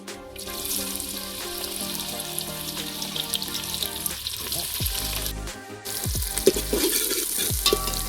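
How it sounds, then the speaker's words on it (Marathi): Bay leaf and onion frying in hot oil for a Konkan-style chicken dish, a steady bright sizzle with occasional stirring and a brief splash of tap water near the end. "आता त्याच्यात आपण तमालपत्र घालून घेऊया आणि मग आपण त्याच्यामध्ये लगेच कांदा ॲड करणार आहोत"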